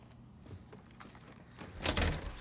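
Front door opening in a stealth action video game, a quiet soft sliding thunk that swells near the end, alone with no talk.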